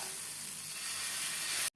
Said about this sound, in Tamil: கல் சூடாகிடுச்சு, தோசை ஊற்றிக்கணும்க்கா.